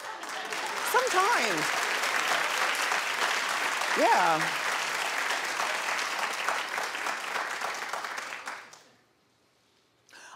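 A television talk show's studio audience claps loudly and steadily for several seconds before the applause cuts off, with a voice speaking briefly over the noise.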